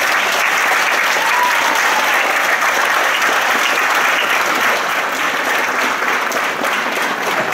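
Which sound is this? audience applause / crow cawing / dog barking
audience applause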